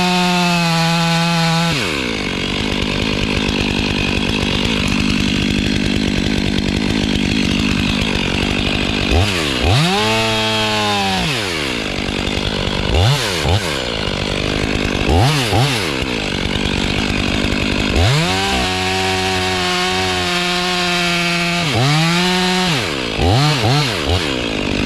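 A chainsaw fells a small tree with a back cut and a small face cut, running loud and close the whole time, its engine revving up and bogging down repeatedly as the chain bites into the wood.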